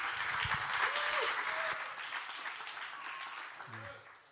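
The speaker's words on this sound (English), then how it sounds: "So get a round of applause here for Marty, and he'll kick us off." An audience at an open source conference talk claps steadily for a speaker, dense applause fading near the end as a voice starts under it.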